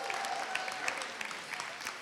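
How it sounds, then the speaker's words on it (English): Faint, distant applause from the audience at a Columbus City School Board debate, a steady patter of many hands lasting about two seconds. "a round of applause for our MC, Carter."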